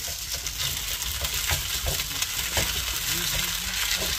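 Garlic sautéing in a pan gives a steady, close sizzle with occasional soft scrapes and taps of stirring throughout.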